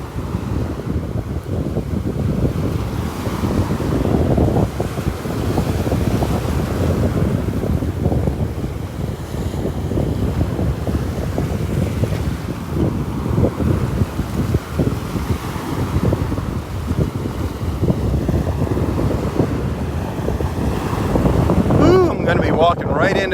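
Steady, loud wind roars across the microphone during a morning walk on a beach in North Naples, Florida, with surf washing in beneath the constant gusty rumble.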